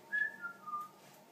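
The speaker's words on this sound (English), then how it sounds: "Is this guy whistling?" A character in the video game White Noise Online whistles a short, thin tune of a few rising and falling notes, faint and alone against a quiet background.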